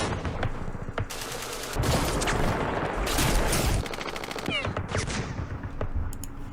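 Recoilless rifles fire in the Campaign Series Middle East wargame's Battle of Jerusalem, heard as loud, dense bursts of gunfire and blasts that overlap in rapid succession across several seconds.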